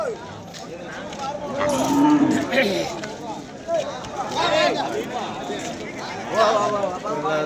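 Cattle at a busy rural cow market in Vaniyambadi, Tamil Nadu, low now and then amid crowd chatter, nearby voices and shuffling hooves, with a lively outdoor bustle throughout.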